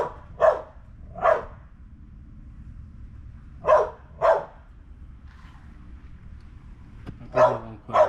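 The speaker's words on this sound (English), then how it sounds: "That's my dog. She got a lot of energy." A dog barks in separated pairs of sharp, loud, close barks, with quiet stretches between them and no talking.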